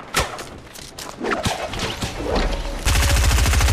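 Gunfire in the video game Fortnite: scattered loud shots and impacts, then a sustained rapid burst of automatic fire at the end, with no talk over it.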